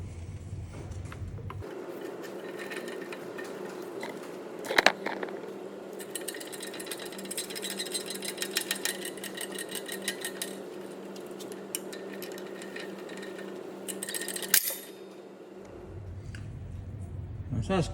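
A press forces the wheel hub flange out of the front wheel bearing on an Audi A4 B8. It makes steady mechanical grinding and creaking with a sharp crack partway through, another later, and scattered metallic clicks.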